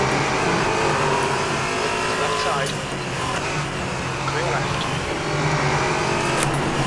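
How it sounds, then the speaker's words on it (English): A Ferrari 488 GT2 race car engine in a racing simulator drones steadily at speed with shifting revs, held under continuous spoken commentary. "Really beautiful these cars, this Ferrari's 488 GT2 Challenge."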